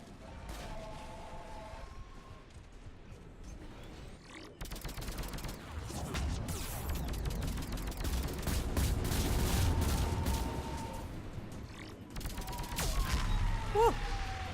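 Sustained gunfire in a Mass Effect 3 combat sequence: dense bursts and rattling volleys build from a quieter start into a loud, continuous barrage, with brief sharp whines near the end.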